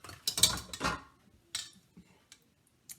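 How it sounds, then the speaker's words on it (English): A metal whisk knocked against the rim of a mixing bowl of chocolate cake batter and then set down, a cluster of sharp clinks and clatters followed by a few sparse, fainter taps. "If I can get my whisk off of here"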